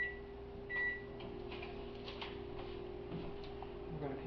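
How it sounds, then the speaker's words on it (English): Microwave oven running a short pulse to melt cocoa with butter, a steady low hum with a beep at the start and faint ticking and clicks throughout, moderately quiet. "we're going to need one additional little quick microwave here, pulse"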